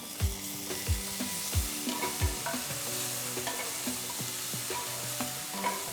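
Browned onions sizzle in a pan for green peas masala as ginger, garlic and green chili paste goes in, with a steady frying hiss and several distinct spoon scrapes and knocks against the pan.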